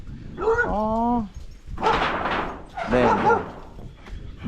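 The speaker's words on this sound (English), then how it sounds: "there's a doggy" A dog in a rural village near Medellín gives a few short, close barks and yips in separate bursts, one with a whining tonal quality, with no voices over them.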